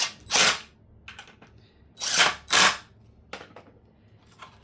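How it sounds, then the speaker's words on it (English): A power drill drives screws into a homemade Halloween headstone in short whirring bursts, with two close together after a first one, separated by small clicks and handling knocks, fairly loud and close. "I'm just going to go ahead and finish getting them drilled on in"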